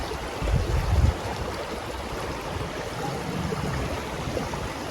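Water of a river flowing outdoors, a steady broad rushing wash with a few low thumps early on, likely wind or handling, and no talking.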